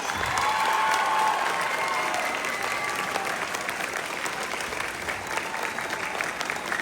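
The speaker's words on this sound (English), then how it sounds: "Let's give them a big round of applause." An audience at a high school band event applauds the students, a sustained wash of many hands clapping at medium distance, with a few faint voices and whistles mixed in.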